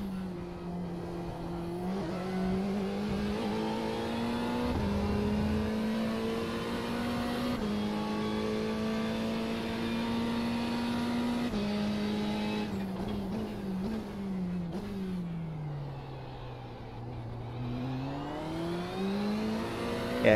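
A race car in the iRacing sim drives continuously, its engine note climbing through gears and dipping under braking before rising again, loud and close with steady tire and wind noise and no talk.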